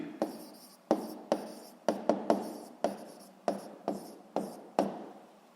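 Pen writing out the answer to a physics exercise: a quick series of about a dozen short scratching strokes in an irregular rhythm, close and fairly quiet, with no talking.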